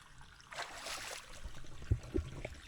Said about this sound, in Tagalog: Lakas-lakas po na tubig oh.